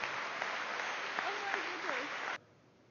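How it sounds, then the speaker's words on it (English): An audience at a corporate mind-reading and motivational talk applauds a volunteer, a steady round of clapping with a voice over it, cut off abruptly near the end. "Give her a big round of applause for her help."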